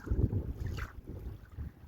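Strong wind rushes and buffets the microphone in low, gusty roars on a fishing trip under a storm cloud, with the sound of water and a boat in the background.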